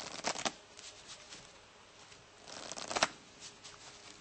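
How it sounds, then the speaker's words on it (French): A deck of playing cards is shuffled twice in quick riffling bursts, near and fairly loud, with a quieter stretch of rustling between them and no talk. "Ta carte va être complètement perdue et mélangée."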